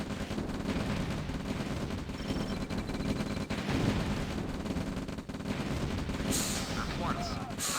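Gunfire crackles in the strategy video game Command & Conquer Red Alert, dense overlapping shots and bursts of battle noise running throughout with brief game voice lines mixed in.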